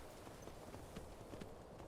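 Horse hooves clip-clop at a steady walking rhythm in the video game Skyrim, faint and alone, with soft repeated thuds on stone.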